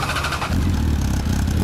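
A 2008 Honda CB1300 Super Four engine with a Yoshimura aftermarket exhaust idles loudly nearby, then revs up to a rough, throaty roar, holding a high rumbling drone.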